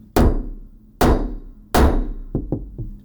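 A hammer strikes a rivet setter tool three times in a slow, even rhythm, each sharp metallic thunk close and loud, followed by a few lighter taps.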